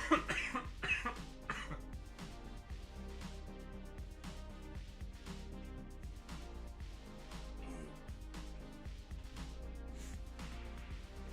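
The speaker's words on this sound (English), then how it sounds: "Caught it that time, the cough." Several sharp coughs from a person at a computer, close and fairly loud near the start, with fainter throat sounds later over steady background noise and no talking.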